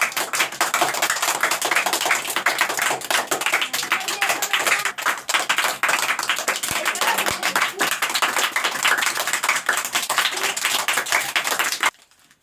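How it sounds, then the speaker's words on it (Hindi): A classroom of village students claps continuously and steadily for the winning boys' team after a Roman numeral competition, dense and fairly loud, then stopping abruptly at the end. "तो एक बार ताली लड़कों के लिए बजा दिया जाए"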